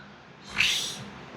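A single drawn-out cat meow rises and fades over about half a second. It is fairly loud and close, stands alone over a quiet background, and no one speaks.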